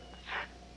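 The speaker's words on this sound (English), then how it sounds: "Because you're sneezing." A single short, breathy sneeze bursts out in a USA TV show scene, sharp and close, against a quiet background.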